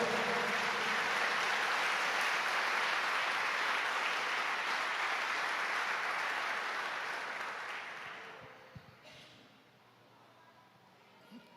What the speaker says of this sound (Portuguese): Então se expresse e aplauda o Senhor.